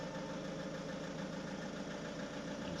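Car engine idling with a faulty alternator under investigation, a steady low hum with a faint rhythmic knock, quiet and even throughout without talk.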